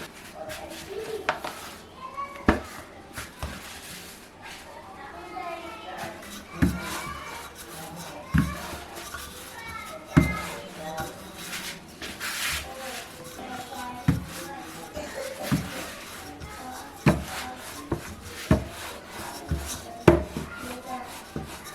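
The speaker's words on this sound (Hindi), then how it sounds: "अब हमने डो को बेलना है, रेक्टेंगल्स हम बनाएंगे, इस तरह से हमने बेलना है।" A rolling pin works cinnamon roll dough into a rectangle on a floured surface, giving soft repeated rubbing and rolling strokes with light knocks of wood on the board, steady and close.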